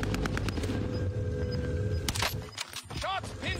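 Gunfire in the battle-royale video game Fortnite: bursts of sharp shots through the first two seconds, then sparser cracks and electronic tones, with game audio dense throughout.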